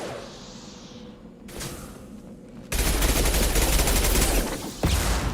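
Gunfire in Mass Effect 2 with incendiary ammo: after a quieter stretch with a single sharp report, a loud, sustained burst of rapid shots fills the second half, broken briefly before firing resumes.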